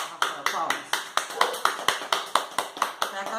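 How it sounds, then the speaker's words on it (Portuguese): Rhythmic hand clapping for Rafael in a small indoor setting, about a dozen sharp, evenly spaced claps in a steady beat, close and fairly loud, with no talking over them. "Palmas, Rafael, palmas."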